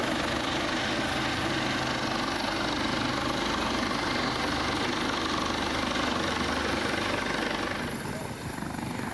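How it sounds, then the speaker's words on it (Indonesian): A Basarnas rescue helicopter runs steadily close by during a flash-flood evacuation in Agam Regency, West Sumatra, its dense rotor and engine roar continuous and loud, easing slightly near the end. "Basarnas kerahkan helikopter untuk evakuasi korban banjir bandang"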